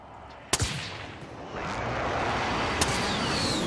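Two sharp gunshots ring out in a shooter video game, a loud close crack early on and a fainter one near the end, over a steady low rumble of background noise.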